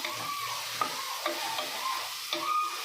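Crushed chili and ginger-garlic paste fry in a pan for an aloo matar pulao, a low, steady sizzle broken by a few light taps from stirring.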